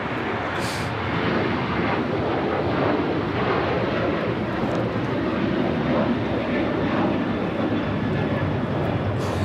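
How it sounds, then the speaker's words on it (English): An Alaska Airlines Boeing 737-800 bound for Washington Reagan National takes off from Los Angeles LAX, a steady broadband engine roar with some wind buffeting, fairly distant and unchanging through the short stretch. "This is Alaska Airlines Flight 6 taking off to Washington, Reagan National on the 737-800."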